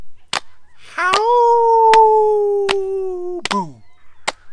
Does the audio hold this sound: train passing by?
no